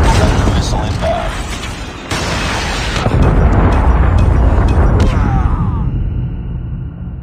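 A predator missile blast in Call of Duty Mobile, a heavy booming explosion with a rumbling roar that trails off into quiet, mixed with game noise and voices.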